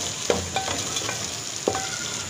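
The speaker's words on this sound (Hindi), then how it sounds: "अब हम इसको अच्छे से भूनेंगे।" Masala goat liver frying in a pan gives a steady low sizzle, with a few sharp scrapes and clinks as it is stirred at a slow, uneven rhythm.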